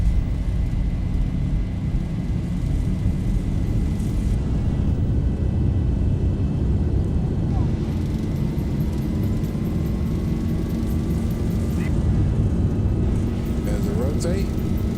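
Boeing 737 engines spooling to takeoff power in a flight simulator, a steady, dense broadband roar with rising tonal whines, continuous throughout.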